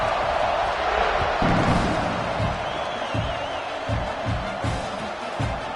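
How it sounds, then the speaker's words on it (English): A stadium crowd at an Oklahoma State at Oklahoma college football game buzzes with a broad, distant roar that stays steady throughout, with faint scattered thumps and cheers under the wash of noise. "this crowd is buzzing after that last score"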